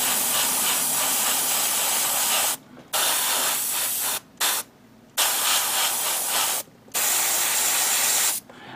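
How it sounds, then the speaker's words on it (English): Gaahleri airbrush spraying VicHobby hobby paint, a loud steady hiss in several long bursts separated by short silent pauses as the trigger is released. "This Gaahleri airbrush is amazing."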